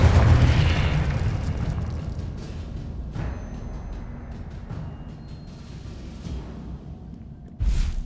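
A Confringo blasting spell explodes in Hogwarts Legacy with a loud, deep boom that fades into a long rumbling tail, followed by a few lighter crackles and a second sharp burst near the end, with no talking.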